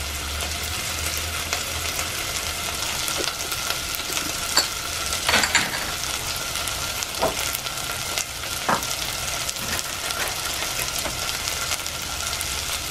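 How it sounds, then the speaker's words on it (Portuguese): Seasoning sizzles steadily as it is sautéed in a new pan, with a continuous frying hiss and a few scraping stirs of a utensil, close and fairly loud with no talk. "Eu costumo refogar tudo, tá, gente?"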